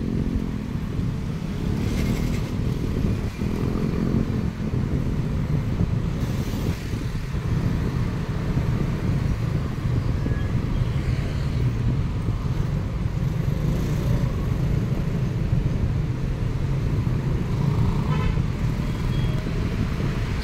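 Congested roadside traffic of cars, motorcycles and vans rumbles continuously for twenty seconds, with engines passing nearby and occasional short horn toots over the steady roar, with no voices.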